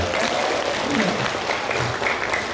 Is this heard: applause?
yes